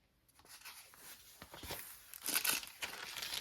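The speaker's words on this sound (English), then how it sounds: "I love the sound of that tissue paper in there." Tissue paper tucked into a mint green vellum scrapbook pocket of a handmade journal crinkles and rustles in soft, uneven bursts, growing busier and brighter toward the end, heard up close without any talk.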